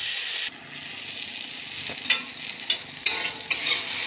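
Food sizzling in a pan seasoned with chilli powder, with a spatula stirring and scraping in several short bursts over a steady hiss of frying, close and fairly loud.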